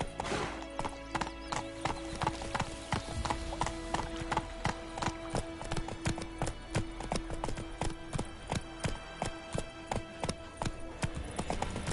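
Steady, loud horse hooves clip-clopping in a quick regular rhythm as a mount trots along in the video game Witcher 3, with an occasional whinny and faint voices in the background.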